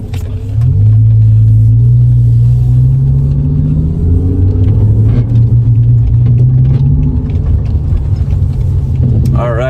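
A BMW M5 E60 accelerates hard in race mode, its engine note climbing loudly from a low rumble and holding a strong rising drone throughout, close and dominant with faint talk underneath.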